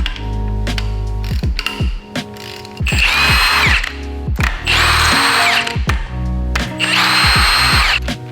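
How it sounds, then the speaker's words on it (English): A power tool whirs and ratchets in repeated loud bursts, spinning out cylinder head bolts on a Honda K24 engine, each run rising in pitch with short gaps between. "Remove the factory head bolts and the head will come off."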